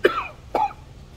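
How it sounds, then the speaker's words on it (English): Two sharp coughs about half a second apart, close and loud, with quiet room noise in between. "A lot of coughing, guys."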